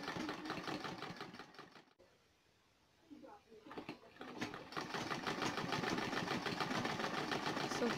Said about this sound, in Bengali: ওই সেলাইয়ের উপর দিয়ে আরেকটা সেলাই করে নিয়ে যাব